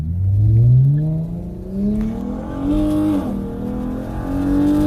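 A Dodge Challenger accelerates hard while racing a Mustang, its engine note climbing through rising revs with a brief dip and surge between shifts, loud and close throughout.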